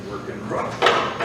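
A rough-working old door lock mechanism on a vehicle door weathered by fifteen years outdoors, loosened and forced, gives a brief scraping, clattering burst near the end over a low background murmur.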